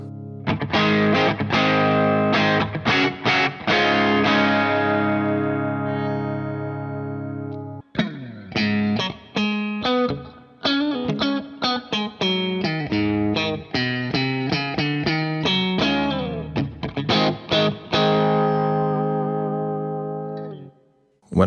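An electric guitar through a KWB distortion pedal on a Line 6 POD Go plays chords and single notes with a thick, saturated, sustained tone, loud and close, with no speech.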